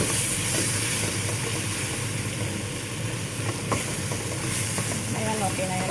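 Beef for a stew sautés and browns in a pan, a constant close sizzle and hiss with occasional stirring scrapes, loud and steady, with no voice.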